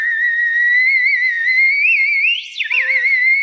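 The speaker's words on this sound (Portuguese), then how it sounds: "Bota um pouquinho de água no meu apito." A bird-shaped water whistle with a little water inside gives a loud, steady, close high tone that rises slowly and then breaks into a warbling, bird-like trill near the end.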